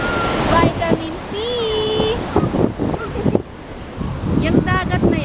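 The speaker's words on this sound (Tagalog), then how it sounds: "Yan po ay ang Pacific Ocean." Pacific Ocean waves washing onto a beach at low tide, a steady surf roar buffeted by wind noise on the microphone, with people talking over it.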